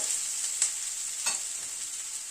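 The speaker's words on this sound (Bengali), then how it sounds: "পেঁয়াজটা একটু ভেজে নিলাম।" Onions frying in a pan for a winter fish curry, a steady high sizzle close by with two brief stirring scrapes, no talking.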